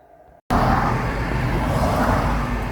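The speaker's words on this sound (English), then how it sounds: "This car's just turned up." A car engine rumbles up close and steady as a vehicle pulls in and manoeuvres to park, loud and continuous after a brief quiet start.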